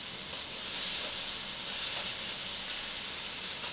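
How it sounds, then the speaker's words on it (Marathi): Chopped onion hitting a hot pan with cumin seeds in it, giving a steady, close broadband sizzle and hiss that stays even throughout. "नंतर जो कांदा कट केला होता तो टाकणार आहे त्यात."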